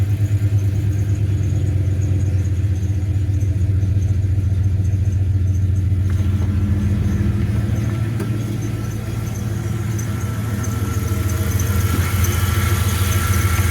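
A Ford car engine running steadily after being started with a 1000 amp jump pack, a loud continuous low idle rumble with a faint squeal, heard close with no talking.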